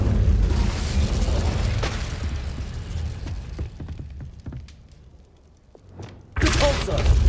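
Incendio fire spell cast in Hogwarts Legacy: a loud whooshing fiery burst opens, busy rumbling fades into a quieter stretch, then a second sudden blaze erupts near the end.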